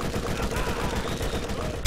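Machine gun fire in the video game Borderlands, a quiet, dense rattle of rapid shots running steadily for about two seconds.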